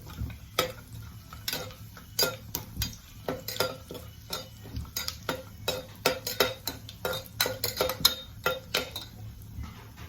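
Whole spices and bay leaf crackle and spit in hot oil, with frequent sharp pops and light scraping of a utensil against the pan, no voices.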